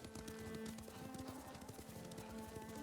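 Horse hooves clip-clop steadily at a riding gait in the Ghost of Tsushima video game, a continuous rhythmic patter under a dense game soundscape, with no talking.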